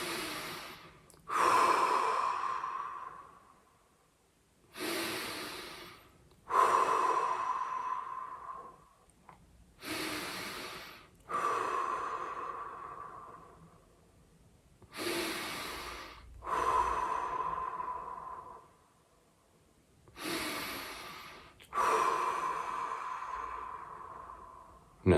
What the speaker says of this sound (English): Let's take 5 deep breaths, and first a bit noisy for me.